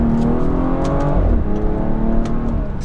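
A BMW F30 340i with the B58 engine accelerates hard, its strong engine note climbing through the gears with quick shifts, close and loud with no talk.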